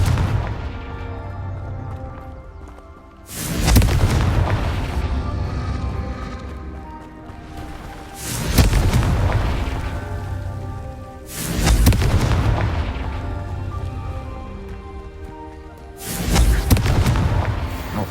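Confringo fire-blast spell explosions in the video game Hogwarts Legacy: four loud, heavy booms spaced several seconds apart, each followed by a long rumbling decay, with no talking.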